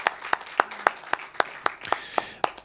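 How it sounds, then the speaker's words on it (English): Rhythmic clapping at an Amuwo political event after a candidate is introduced, a moderately close, steady beat of sharp claps over a softer wash of crowd applause. "Please, a round of applause."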